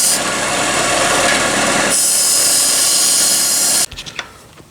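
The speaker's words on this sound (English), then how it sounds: "We'll bring this over to the belt sander and bring it down." A belt sander grinds down dried glazing putty on a DeVilbiss oiler, a loud steady rasping whine that shifts pitch midway, then cuts off into a few faint clicks and handling taps near the end.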